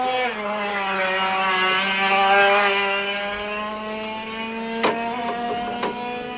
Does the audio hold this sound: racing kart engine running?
yes